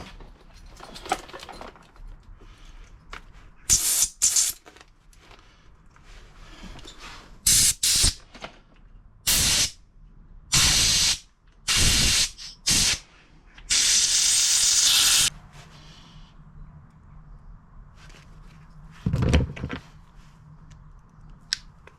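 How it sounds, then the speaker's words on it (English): Compressed air blasts through a blocked windscreen washer jet on a Range Rover Sport L320. Short sharp hissing bursts come first, then a longer sustained blast, followed by quiet background and one more brief puff. "I'm going to do the same, get some compressed air"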